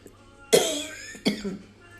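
Two short coughs, the first sharper and louder, the second a bit softer, close by.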